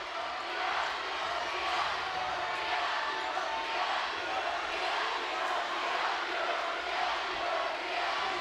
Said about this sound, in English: Lutheran South crowd very loud. A chant.